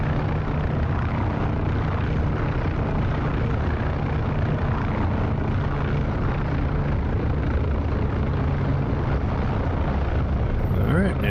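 Jet engine throttled up to 70% in the DCS flight simulator on the Germany Cold War map, a steady, dense roar with a constant low hum that holds unchanged throughout.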